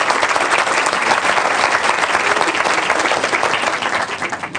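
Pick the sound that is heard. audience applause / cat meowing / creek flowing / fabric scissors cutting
audience applause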